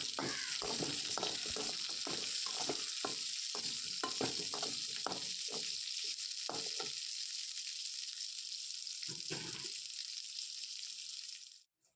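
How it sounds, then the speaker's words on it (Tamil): Tamarind, tomato and onion sauté in a pan, with a steady sizzle under a series of scraping stirs and clinks that fade near the end. "புளியும் நம்ம வந்து தக்காளி வெங்காயத்தை கூடவே வந்து வதக்கி எடுத்துக்கலாம்"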